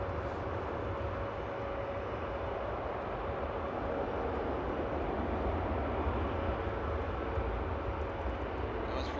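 A Boeing 747 jet landing at Frankfurt Airport on a winter morning, its engines a steady, loud broadband roar with a faint whine throughout, heard from a spotting position.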